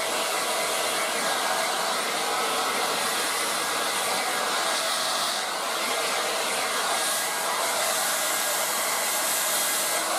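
A Revlon 097x 1800W dual-speed hair dryer runs on turbo at full heat and full speed, giving a loud, steady, close-up blowing roar with a bright airy hiss that holds unbroken for the whole stretch, with no talking.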